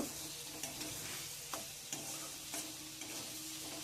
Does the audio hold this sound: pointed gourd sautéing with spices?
yes